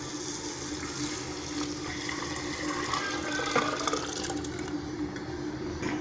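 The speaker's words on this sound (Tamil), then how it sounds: "நம்ம தேவைக்கேற்ப தண்ணி ஊற்றிக்கலாம்" Water runs steadily into a cooking pot of chana dal, lentils and cauliflower for a Tamil kootu, a continuous close pouring rush with no talk over it.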